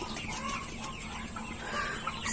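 Sonali chickens in a hot, unventilated poultry shed cluck steadily as a dense, fairly quiet chorus of overlapping calls from a flock, with no voices present.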